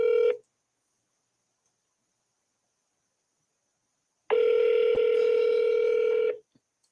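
A telephone dial tone for a call placed during a live business deal: a short tone at first, then silence, then a steady tone of about two seconds with a single click in the middle.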